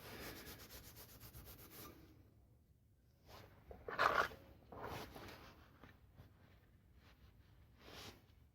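A worn Scotch-Brite pad scrubs oxide off metal in close, soft rubbing strokes, with one louder scrape near the middle amid quieter passes and short pauses.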